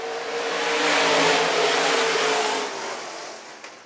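IMCA stock cars racing on a dirt track at Phillips County Raceway, a loud engine roar that swells as a car passes close, then fades into the distance.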